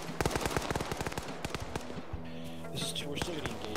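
Rapid bursts of gunfire in a military video game, sharp repeated shots in quick succession with a lingering echo, under faint background talk.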